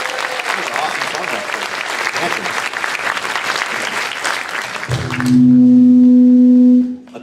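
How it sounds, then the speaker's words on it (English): An audience at a school spotlight concert applauds McAuliffe Middle School, loud sustained clapping for about five seconds, followed by a strong steady low tone. "How about another round of applause for McAuliffe Middle School?"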